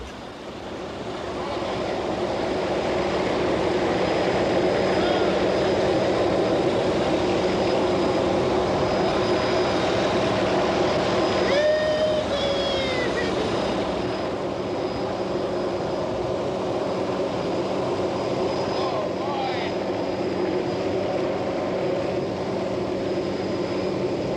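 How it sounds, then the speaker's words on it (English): A helicopter's engine and rotors drone steadily and loudly for the whole stretch over Sarisariñama, Venezuela, a constant rumbling whine with no voices. "The helicopter cannot land at the bottom, so Kathy and Jorge will fly in"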